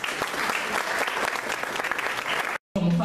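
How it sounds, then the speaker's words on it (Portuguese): An audience at a debate breaks into dense, steady applause that fills the room for over two seconds, cuts off briefly, then resumes just as strongly. "eu gostaria de pedir uma salva de palmas"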